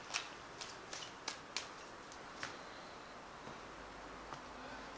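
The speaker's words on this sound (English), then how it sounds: "I'm cutting this deck. I have shuffled it before." A deck of tarot cards is cut and handled, giving a series of soft, crisp riffling clicks and snaps near the microphone in a quiet room, busier at first and thinning out.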